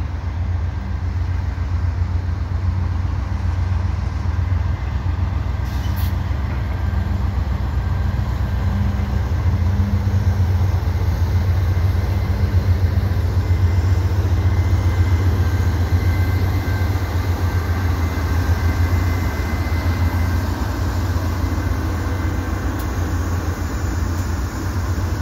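CN freight train 527 rolling past the St. Patrick Street Bridge in Montreal, a steady, loud low rumble of wheels and cars that holds evenly throughout with no voices.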